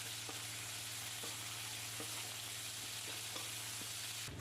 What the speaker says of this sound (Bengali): এবার ওই মাছ ভাজার তেলের মধ্যেই দিয়ে দিলাম 5 ফোড়ন, তারপরেই দিয়ে দিলাম পেঁয়াজ কুচি